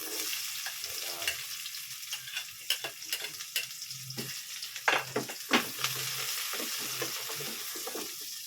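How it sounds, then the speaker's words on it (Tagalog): Garlic and onion sauté in a frying pan for alacobana and pork liver steak, giving a steady close sizzle broken by repeated sharp scraping strokes and clinks of a utensil stirring, with no voices. "Pag pagigisa mo yung bawang, yan, nag-brown na, isunod mo ngayon ang sibuyas."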